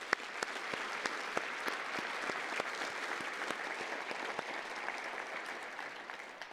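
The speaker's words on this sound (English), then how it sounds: "Let's have another round of applause." Steady audience applause at a 2025 chamber of commerce State of the Cities event, dense and even throughout with a few sharper nearby claps standing out, no talking over it.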